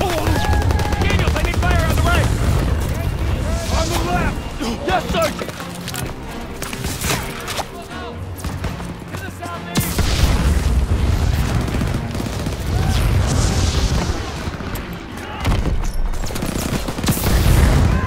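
Dense, continuous gunfire and rifle volleys from a WWII Battle of France video game battle, loud and sustained throughout with shouted voices mixed into the din.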